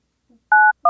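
A telephone keypad dials a call with two short DTMF tones in quick succession, clear and close, with no other sound around them.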